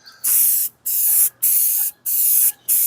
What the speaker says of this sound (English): Just holding it about 6 to 8 inches away from where I'm spraying it, and it's going on great.